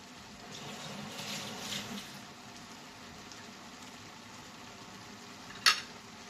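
Chicken adobo simmers and is stirred in a pan, a soft bubbling hiss with gentle scraping early on and one sharp clink of a utensil near the end.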